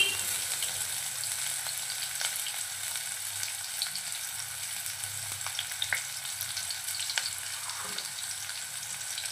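Chopped onion fries in hot oil for Hyderabadi mutton dum biryani, giving a steady, soft sizzle with faint crackles and pops throughout and no talking.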